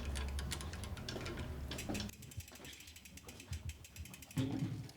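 A hand ratchet tightens bolts on a Salsa Stormchaser bike build, clicking in a quick, quiet run of rapid ticks that follows a stretch of muffled handling noise.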